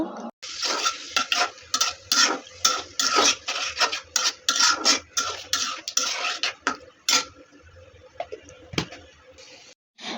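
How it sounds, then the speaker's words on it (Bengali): Ginger-garlic paste frying in a pot for haleem, with a spoon scraping and clinking against the metal in quick, uneven strokes and short pauses between them. "দেন এগুলো ভালোভাবে নেড়ে নিব, কিছুক্ষণ একটু ভেজে নিব"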